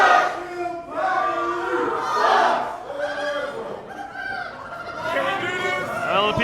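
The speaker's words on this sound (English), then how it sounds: "it appears that Jermaine Johnson will be getting absolutely no support from our assembled crowd here" Indoor independent wrestling arena crowd jeering a wrestler, with rising and falling waves of loud booing and shouted taunts from many voices, close and overlapping throughout.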